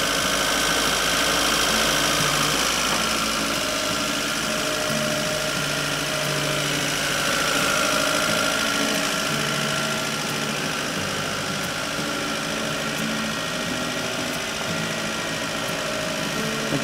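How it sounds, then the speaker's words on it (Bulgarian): Hyundai car engine after a hydrogen carbon cleaning runs close and loud, a steady mechanical drone with mild swells as revs rise and fall under throttle, with no talk over it. "Ето, слушайте се как намаляха оборотите, когато изкарахме газа. Ето сега в момента подадахме газ. Ето, оборотите се увеличиха."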